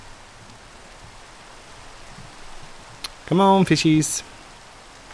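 Rain pours in the Minecraft video game, a steady, even hiss like rain on a surface throughout. Someone speaks briefly near the end over the rain.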